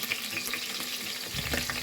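Chopped onion frying in a pot while chicken is being cooked, giving a steady close sizzle with faint stirring scrapes and no talk.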